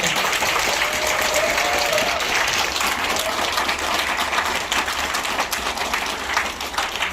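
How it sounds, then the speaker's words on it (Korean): A seated audience at a nurses' aides' continuing-education event gives loud, sustained applause that fills the whole stretch, steady and dense with faint voices mixed in. "여러분 뜨거운 박수 부탁드립니다"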